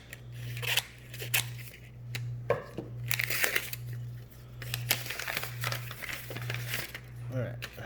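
A mail envelope holding trading cards is torn open by hand with no cutting, giving close crinkling, rustling and ripping paper in short bursts over a steady low electrical hum.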